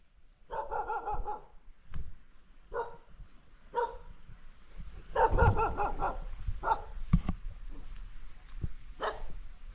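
A neighbour's dog barks in repeated bursts of several yelps at moderate distance, with a quieter rural farm setting and a steady high electrical whine underneath.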